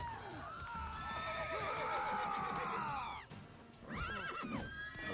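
A horse in The Witcher 3: Wild Hunt on PS5 lets out a long, loud whinny that rises and wavers, followed by a second shorter neigh after a brief gap, over faint game ambience.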